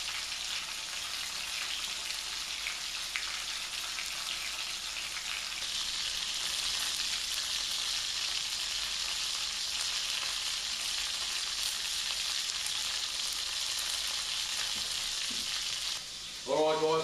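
Pork chops fry in a pan, cooked well done, giving a steady, loud broadband sizzle that holds almost unbroken for about sixteen seconds before a brief clatter and a short tonal sound at the end.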